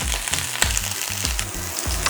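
Meatballs searing in olive oil in a pan on an induction burner, a close steady sizzle broken by brief bursts of spattering and crackle, no voices.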